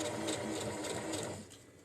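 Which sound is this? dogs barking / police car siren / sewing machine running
sewing machine running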